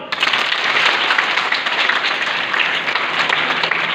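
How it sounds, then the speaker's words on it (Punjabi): An audience at a stage play applauds loudly and continuously, dense clapping from many hands filling the space for several seconds. "ਤਾਲੀ ਬਣਾਓ ਜੀ"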